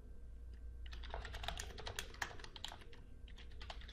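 Steady, quick typing on a computer keyboard, close and fairly quiet, with a dense run of key clicks lasting a few seconds and no talking.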